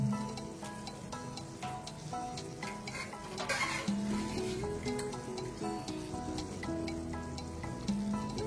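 Green chili mandi with lentils frying and being stirred in a pan, a soft steady sizzle broken by light scraping and clinks, faint and close, with occasional tones in the background.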